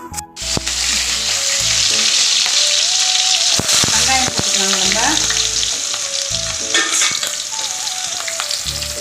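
Green chillies dropped into hot oil already crackling with cinnamon, clove and cardamom, a loud continuous sizzle and spatter with occasional stirring scrapes, no voices.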